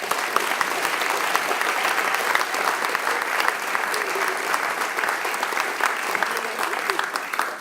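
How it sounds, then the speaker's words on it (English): Sustained, dense clapping from a sizable crowd at a community awards banquet, steady and loud for several seconds without letting up. "Round of applause for them."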